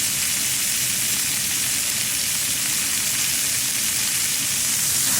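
A chuck roast sizzles steadily in bacon fat, prepared Brazilian style with lime, giving a dense, continuous frying hiss close by with no talk over it.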